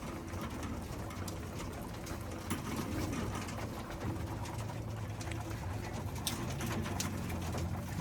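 Pigeons coo steadily and softly, with low burbling calls overlapping against a faint, constant background hiss.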